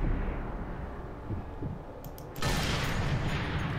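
Enemy gunfire in the shooter game Sniper Elite 3, a steady muffled battle din of distant shots that jumps to a louder, denser burst of fire partway through, with no talking.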